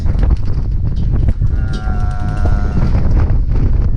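Strong wind buffets the microphone at a paintball field with a constant low roar, and a brief tonal call rises faintly in the middle.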